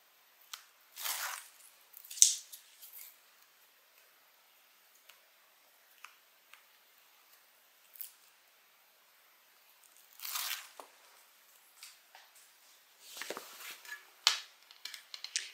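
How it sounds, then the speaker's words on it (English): Adhesive tape backing peeled away while positioning a zipper for a sewn beverage bag, heard as scattered short tearing and crinkling bursts, close and fairly quiet, with gaps of near silence between them and no talking. "Take the backing off the tape."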